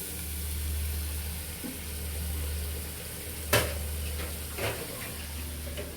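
Leafy greens (shak) fry in a pan with a steady, close sizzle under a low constant hum, broken by a sharp clink about halfway through and a softer knock shortly after.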